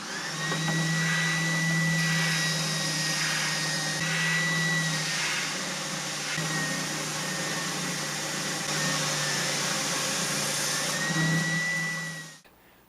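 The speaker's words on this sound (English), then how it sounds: "I think I'm gonna catch the rest of this with the spindle sander" A spindle sander works a rosewood set-neck Telecaster guitar neck, giving a steady close motor whine with a faint grinding hiss that holds for about twelve seconds, then cuts off abruptly, with no talking.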